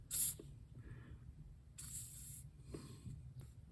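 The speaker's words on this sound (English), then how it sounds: "Little squirt of PB Blaster always makes everything go better." PB Blaster penetrating oil sprays from an aerosol can onto a Subaru sway bar link in short hissing bursts, about three quick squirts with quiet pauses between, close to the microphone.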